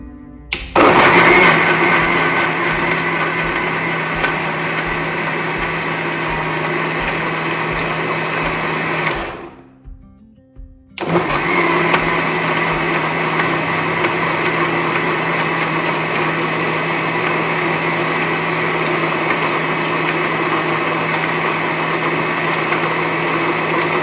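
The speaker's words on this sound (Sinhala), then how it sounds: "අපි එහෙනම් දැන් මේක බ්ලෙන්ඩ් කරගමු" An electric blender whirs loudly as it blends a wood apple drink. It runs steadily for about nine seconds, stops briefly, then starts again and keeps spinning, with no voices.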